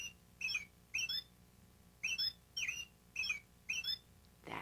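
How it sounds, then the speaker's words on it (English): An American robin sings in a recording, a series of clear, short warbling phrases repeated about every half second to a second with brief pauses, fairly faint and alone. "Let's listen to the robin's song."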